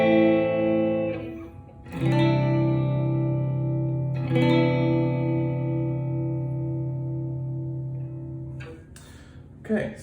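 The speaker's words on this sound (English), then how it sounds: "I am playing through a Mesa Boogie Lone Star on clean." Clean electric guitar through a Mesa Boogie Lone Star amp with no amp reverb, three ringing strummed chords, each struck and left to sustain and slowly fade, played alone.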